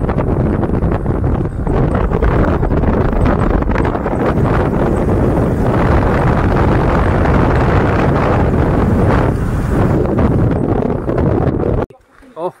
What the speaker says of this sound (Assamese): বহুত ধুলিময় বতাহ মানে বহুত ধুলি